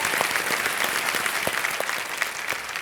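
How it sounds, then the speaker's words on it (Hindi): A studio audience at the Indian quiz show Kaun Banega Crorepati applauds to welcome a contestant's father, a steady, dense round of clapping that fills the whole stretch with no talk over it. "तालियों के साथ इनका स्वागत।"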